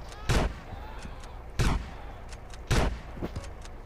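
Three sharp pistol shots from GTA San Andreas Mobile, fired on a street in Los Santos, crack out about a second apart with a few fainter pops in between, loud and close with no voices over them.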